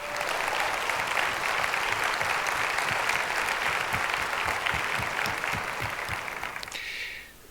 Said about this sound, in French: elles méritent bien nos applaudissements